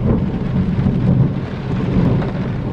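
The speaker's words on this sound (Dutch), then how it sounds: "Het onweert gewoon zo hard dat ik eigenlijk niet eens naar buiten durf." A heavy thunderstorm over Amsterdam: steady, loud rain with deep rolling thunder rumbling continuously throughout, no voices.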